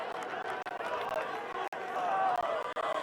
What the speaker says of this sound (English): You can hear the crowd starting to really get into this fight.